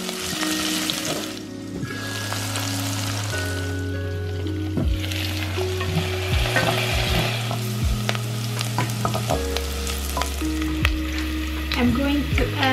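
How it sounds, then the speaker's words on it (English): Ginger, onion and jalapeno sizzle steadily in a hot pan, with stirring scrapes and clatters breaking through the constant frying hiss; no one talks. "I added the onion and the jalapeno together with ginger."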